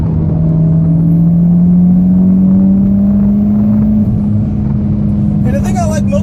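Steady exhaust drone from a 2014 Mitsubishi Evolution MR while cruising, a loud continuous hum with a slight rise in pitch, then a faint squeak near the end.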